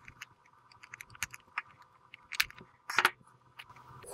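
Packaging for a Furitek Momentum ESC with Bluetooth module is opened, giving a string of close, sharp crinkles, clicks and plastic handling noises at an uneven pace over a faint steady hum.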